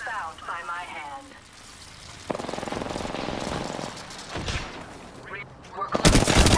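Bursts of rapid gunfire crackle in a shooter video game under ongoing voice chatter, with a sustained rattling volley in the middle and a loud blast of shots at the end.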